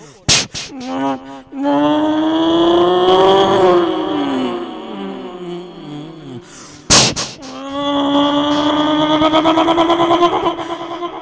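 A voice imitates a bus driver pulling away, with a loud droning engine note that rises in pitch as though gears are shifting. A sharp burst breaks it before the revving drone starts again.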